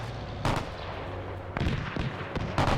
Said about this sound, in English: There's cannon fire going.